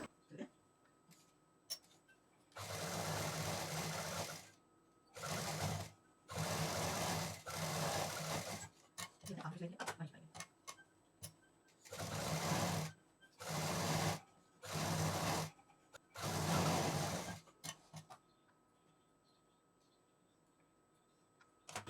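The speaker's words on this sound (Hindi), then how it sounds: "तो ऐसे मशीन चलाने में हमको आसानी रहेगी।" A sewing machine stitches fabric for a potli bag in several whirring runs of a few seconds each, separated by pauses with faint clicks, close and steady.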